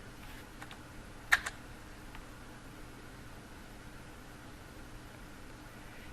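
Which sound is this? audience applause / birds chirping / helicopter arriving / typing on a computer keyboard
typing on a computer keyboard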